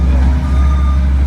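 An earthmoving machine grading a backyard pool site, with a loud low engine drone and a steady high reversing beep running continuously at close range.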